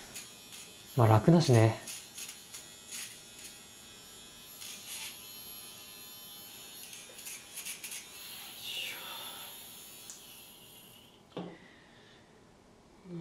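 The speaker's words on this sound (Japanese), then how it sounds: "僕はね、カミソリ派じゃなくて電動ひげ剃り派なんですよ。" Electric shaver buzzing steadily through a morning grooming routine, a low continuous drone at close range with a brief louder burst near the start and a short spoken line over it.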